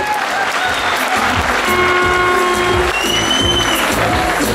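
An audience at the Rose Queen pageant in Karlovo applauds a contestant, loud sustained clapping with whistle-like tones rising above it throughout.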